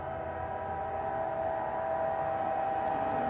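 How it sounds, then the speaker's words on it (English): Auto rack freight train passing a station platform at night, heard as a steady, continuous rumble and rolling drone with a sustained tonal hum, close and constant throughout, with no talking. "Looks like an auto rack train from here."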